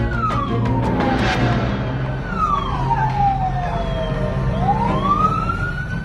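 An ambulance siren wails on a road, its sweeping tone rising and falling repeatedly over loud, steady traffic and engine rumble, fairly close.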